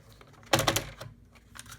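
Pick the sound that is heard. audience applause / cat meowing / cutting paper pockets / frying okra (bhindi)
cutting paper pockets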